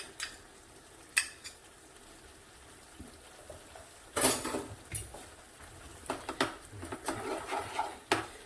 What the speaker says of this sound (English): So I'll mix the tomato puree in.